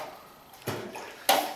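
Thin drywall joint compound scooped off a knife into a bucket of water during a level 5 finish, two soft wet splashes about half a second apart, close and alone.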